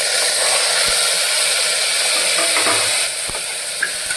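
Steady sizzling of onion, green chili, tomato and curry leaves sautéing in hot oil, a dense continuous hiss with a couple of faint clicks, no voices.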